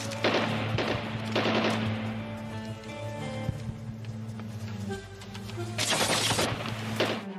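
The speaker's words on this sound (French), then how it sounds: "Nous avons entendu des coups de feu venant de cette direction." Bursts of automatic gunfire in a Nigerian film scene: rapid rattling volleys near the start and again toward the end, loud against a steady low background hum, with no speech.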